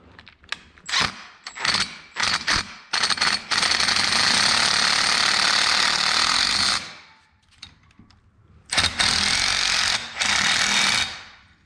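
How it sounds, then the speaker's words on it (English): Power drill driving nuts on an RV slide topper awning bracket, loud whirring bursts: several short stutters, a long sustained run of about three seconds, a pause, then two more sustained runs, close up. "I love my power drill, so I'm going to use a power drill"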